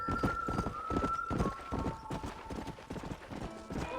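Rapid rhythmic clip-clop of galloping horse hooves in the video game Red Dead Redemption, steady and close, with a faint tonal hum and occasional noise beneath.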